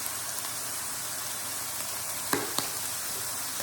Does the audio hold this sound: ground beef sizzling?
yes